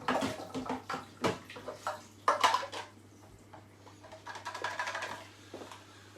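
A bowl is rinsed under a running tap in a home kitchen while baking salted caramel Viennese swirls, with splashing water, clattering dish knocks and a low steady hum underneath, no talk.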